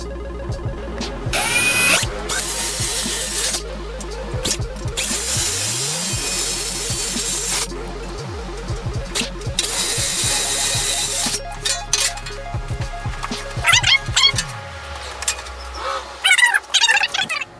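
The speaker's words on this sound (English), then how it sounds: "So drilling out the mounting holes for the fan." Loud power drill whirs in repeated bursts, drilling mounting holes in aluminum for a fan shroud, spinning up and winding down several times with grinding, chattering tones between pauses.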